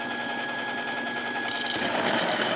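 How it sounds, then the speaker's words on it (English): A Baratza Encore coffee grinder runs close up, grinding espresso-fine with the flow control disc fitted, a steady whirring motor hum that grows rougher and louder in its last second as the burrs bite, with no voices. "Remember to hold on to the hopper while you're grinding"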